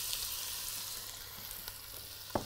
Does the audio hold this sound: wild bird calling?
no